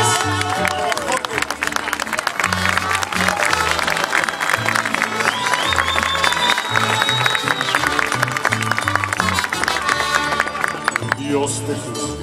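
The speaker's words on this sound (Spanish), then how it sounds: "Un aplauso bonito es" An audience applauds steadily at a tribute concert for Jorge Negrete, with scattered cheers mixed under loud music that keeps playing throughout.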